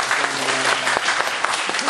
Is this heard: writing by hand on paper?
no